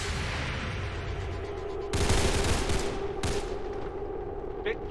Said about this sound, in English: Danel firing again